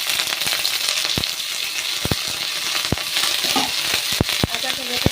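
Ginger frying and sizzling in a pan, a steady close hiss broken by sharp crackles and the occasional clink of stirring.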